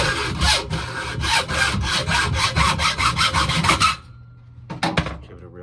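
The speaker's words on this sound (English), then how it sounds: "I'm going to use a hacksaw." A hacksaw cuts through a microwave magnetron fin in quick, rhythmic back-and-forth strokes, about a dozen rasping passes close up. The sawing stops abruptly and is followed by a couple of faint clinks.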